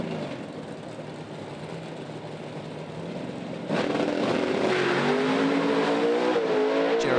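A PRO Stock drag race car at the PDRA World Finals in 2020 launches down the track. A steady rumble jumps suddenly louder into a roaring engine whose pitch climbs as it accelerates away.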